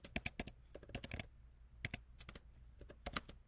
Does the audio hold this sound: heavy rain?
no